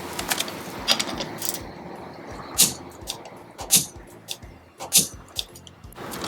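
A Stahlwille demo torque wrench set to 40 newton-metres gives several short, sharp clicks at uneven intervals, close by. Softer ratcheting and handling noises from the mechanism fill the gaps between clicks.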